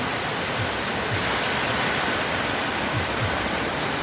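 Heavy rain pours down in a dense, continuous roar, loud and close, with no other sounds breaking through.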